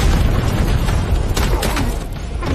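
A Ferris wheel blows up in an action film, a loud, dense roaring blast with crackling debris rumbling on throughout.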